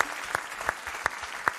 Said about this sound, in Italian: applauso a Fabio Rondanini